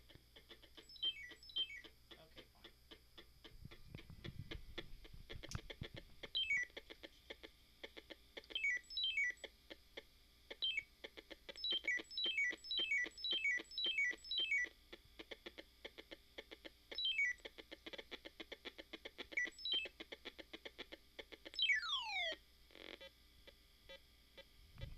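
Electronic sound effects from the E.T. Atari video game: repeated rapid falling and rising chirp sweeps and beeping pulses, with a low thump near the start and a long descending tone toward the end, playing without any talk.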